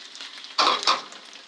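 Garlic slices dropped into hot oil in a wok give a sudden loud sizzling burst that crackles twice, then quickly fades back to a low hiss.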